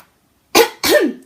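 A storyteller imitates a cricket coughing in a children's tale: two close, throaty coughs out of silence, the second slightly longer, near and distinct.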